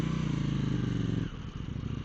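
A KTM 790 Duke motorcycle engine revs hard near the microphone during a ride around Lake Garda, a loud sustained throbbing drone that briefly drops off as the throttle is released, then picks up again.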